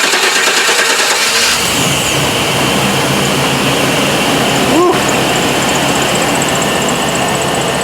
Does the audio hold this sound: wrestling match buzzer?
no